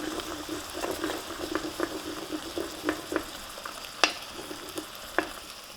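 Two eggs cracked into a hot pan frying for pad Thai, a steady close sizzle with scattered pops and crackles and a few sharper spatula knocks, no voices.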